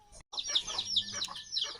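Chickens, with ducks nearby, cluck and chatter while feeding outdoors in a rural village, a steady run of close, overlapping clucks and short calls.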